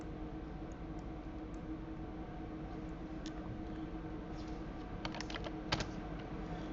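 Keys tapping on a computer keyboard while entering dimensions for a vent panel in CAD software, a steady faint background hum with scattered light clicks that cluster into a short burst of typing near the end.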